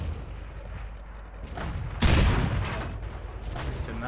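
Tank gun fire in World of Tanks from an M56 Scorpion, a single loud, booming blast bursting out midway over steady battle rumble and lingering briefly afterward.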